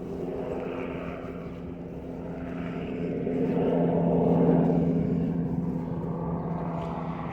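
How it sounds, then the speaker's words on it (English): A helicopter passing overhead above a spring vegetable garden, a steady droning engine hum that swells to a peak midway and then slowly fades, heard from a distance with no talking. "There's a helicopter flying overhead."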